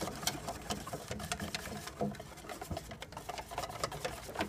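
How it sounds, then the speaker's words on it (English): Garbanzo bean flour batter thinned with spring water is whisked in a bowl, giving a fast, steady clatter of close, rhythmic ticking strokes with no talk. "Stir that up."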